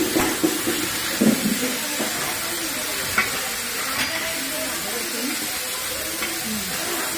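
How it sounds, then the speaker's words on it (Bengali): Radish pieces fry in a pan after chili, five-spice and bay leaf went in, giving a steady broadband sizzle with occasional stirring scrapes and clinks throughout, moderately loud and close. "এবারে মূলো দিচ্ছি, মূলোগুলোকে ভাজা হবে।"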